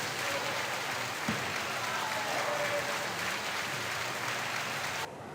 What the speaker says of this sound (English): We'll give him some claps.